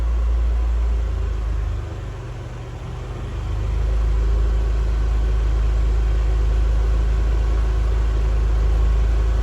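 An automatic scooter engine is held at steady throttle on a dynamometer, giving a loud, even low drone with a brief dip in the middle before it settles back to a constant roar.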